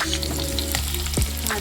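Chunks of potato, papaya, carrot and cauliflower fry in hot oil with a loud, continuous sizzle, broken by a short knock of stirring partway through.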